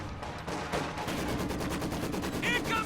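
Rapid machine gun bursts crackle in a Company of Heroes 2 battle, with a dense rattling stream of shots at moderate volume and a few brief sharper whines near the end.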